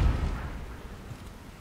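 Missile explosions in the Destiny 2 shooter: a heavy, low rumbling blast that is loudest at the start and then fades into a long, dull boom with faint crackle, with no talk over it.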